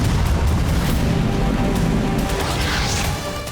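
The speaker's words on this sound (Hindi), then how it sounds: "तीसरा विस्फोट" A loud, rumbling explosion in Kyiv during the Russian attack on Ukraine, with sustained low roar and crackling debris, fading slightly toward the end; no talking.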